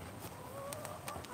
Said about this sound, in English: I have to be careful because those chickens can escape on me.